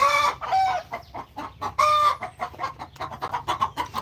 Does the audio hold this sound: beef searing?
no